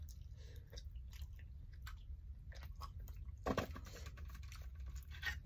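Close, soft chewing and biting sounds come from someone eating spicy Thai tom leng pork bone soup with bare hands, with irregular wet crunches and a louder bite near the middle over low background rumble.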